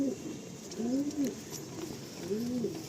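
A pair of Bali line pigeons, a male and a female, coo close by in two soft rounds of rising-and-falling calls over a quiet hiss.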